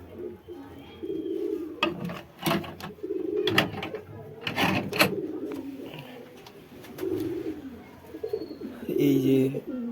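Parent pigeons of a hand-fed chick cooing in their coop, repeated soft throaty coos rising and falling close by, with rustling and a few sharp knocks mixed in.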